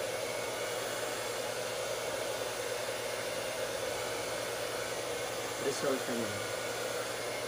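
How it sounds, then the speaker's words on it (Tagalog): A hair dryer blows steadily and loudly on hair after serum has been applied, a continuous broadband whoosh that runs unbroken throughout, with a brief voice speaking near the end. "Ayan, i-blower natin"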